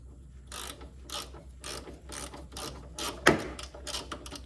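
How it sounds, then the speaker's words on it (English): A ratchet tightens an inverted hex bolt on the motor mount of a 2000s Mini Cooper S R53, short bursts of rapid clicking strokes repeated about eight times, close up, with one sharp metallic knock partway through. "Gonna go underneath now and tighten that inverted hex."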